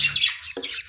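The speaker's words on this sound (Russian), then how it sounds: "Слышно, как пищит?" A budgerigar chick whose eyes are just starting to open gives rapid, high, thin squeaks up close, in a quick run of chirps lasting about a second.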